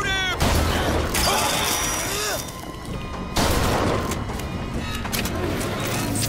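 Gunfire in the first-person shooter BioShock Infinite: rapid bursts of shots and sharp bangs mixed with clattering mechanical and impact noises, loud and busy throughout with a short lull partway through.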